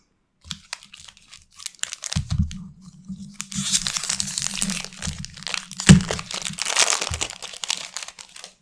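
Crinkling and tearing of foil Magic: the Gathering Throne of Eldraine collector booster packs being ripped open up close, with bursts of crumpling foil and a sharper rip near the middle over a low background hum.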